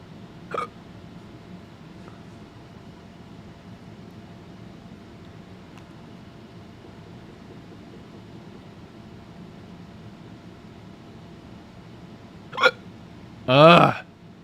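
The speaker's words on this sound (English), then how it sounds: "Freaking hiccups." Hiccups from a person during a live crypto trading stream, a few sharp isolated bursts spaced across a quiet background hum, the last one loudest and longest, with no talking.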